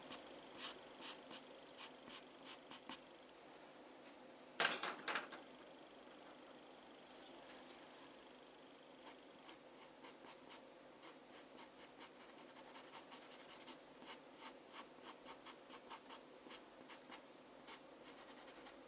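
A pencil colours on paper while a peacock drawing is filled in, giving quiet, close, steady scratchy strokes in quick rhythmic runs with one brief louder rub midway and no talking.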